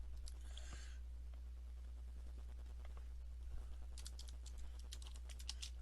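Quiet clicks of a computer keyboard being typed on, in a sparse burst at the start and again as a quicker run near the end, faint over a steady low hum.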